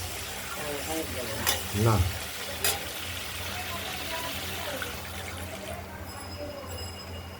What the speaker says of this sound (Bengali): এরপর ঝোল পরিমাণ মতো জল আমরা দিয়ে দেবো